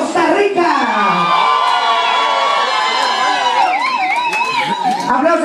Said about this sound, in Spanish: Aplausos aquí para Costa Rica.